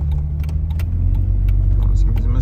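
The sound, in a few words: Jeep driving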